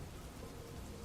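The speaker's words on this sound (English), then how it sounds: "As the rain continues to pick up more and more into the night" Steady rain falling through the night with a faint hint of a slight thunderstorm, a dense, even wash of sound with no distinct rolls standing out.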